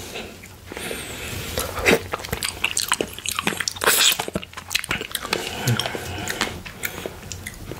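Strawberries dipped in Greek-style blueberry yoghurt being eaten close to the mic, with repeated wet bites, crunches and squishy chewing in an uneven rhythm, loud and intimate, with no talking.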